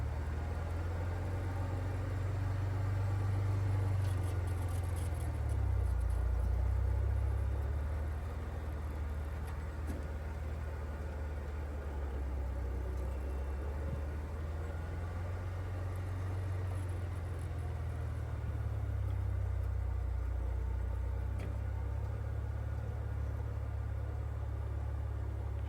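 A classic Jeep crawls slowly up a rocky trail on the Double Sammy route, its engine rumbling low and steady at idle-like revs, the throttle swelling a little now and then, close and continuous with no talk.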